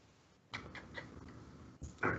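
A pet cat making a few short, faint meows and vocal sounds close to the microphone in a quiet room, with brief bursts and pauses between them.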